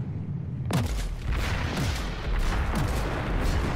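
Heavy cannon fire from the Colossus tank's guns in Planetside 2, a sudden loud boom followed by rolling blasts and a couple more shots that rumble through the rest of the clip.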